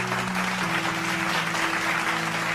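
Even, continuous audience clapping after a competition win, a dense wash of hand claps at moderate distance, with soft sustained musical tones underneath and no talk.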